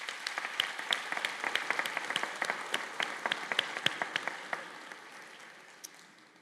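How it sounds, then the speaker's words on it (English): A modest audience at a nursing pinning and candle-lighting ceremony at Calhoun Community College claps in a sparse, crisp burst of distinct handclaps that gradually thins out and fades to a last few claps. "I think that deserves an applause."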